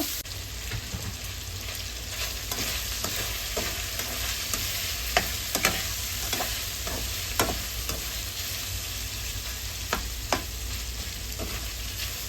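Cabbage and pork stir-fried in a pan: a constant soft sizzle with sharp spatula clacks and scrapes at irregular intervals, close by.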